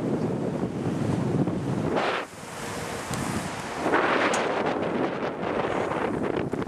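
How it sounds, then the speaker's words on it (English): Wind buffets the microphone in loud, rumbling gusts that rise and ease at the top of a tower, with no voices. "it's windy up here today"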